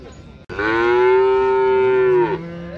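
At a livestock market in Uzynagash near Almaty, a calf gives one loud, close, drawn-out moo lasting nearly two seconds, alone after a brief pause.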